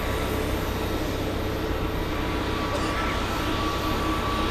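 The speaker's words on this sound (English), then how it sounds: "When you lift off, you're going to feel the plane rotate, gain some altitude." An airplane takes off at Boston Logan International Airport, a steady, broad, fairly distant roar of jet engines that holds even and unbroken throughout.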